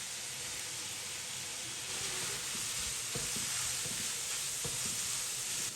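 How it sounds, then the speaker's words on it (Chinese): Minced meat stir-fried in a wok with diced celery, carrot and shiitake mushroom, giving a steady loud sizzle with scraping stirs and occasional clinks of the spatula against the pan, no voices. "肉馅炒香以后加入芹菜丁、胡萝卜丁、香菇丁，翻炒出香味儿"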